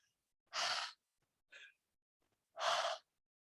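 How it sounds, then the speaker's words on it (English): Two soft, breathy exhalations, like a voiceless H sound, with a brief faint puff between them, voiceless and close, separated by silence. "Breathe out"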